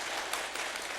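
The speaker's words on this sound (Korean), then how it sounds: "우리 청년부들을 위해서 다시 한번 격려의 박수 부탁드립니다" A church congregation at a Sunday worship service gives a brief burst of encouraging applause for the youth group, a soft, dense patter of clapping.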